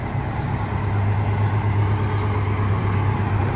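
An old Hahn fire engine rolls past in a volunteer fire association parade, its heavy diesel rumbling steady and low at close range without a break, with no voices over it.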